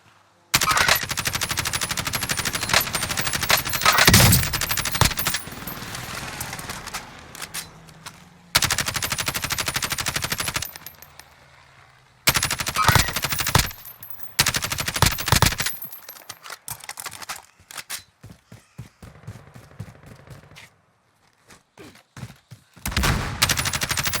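Warzone video game gunfire, bursts of rapid automatic fire broken by short silences, loud and close, with scattered single shots toward the end.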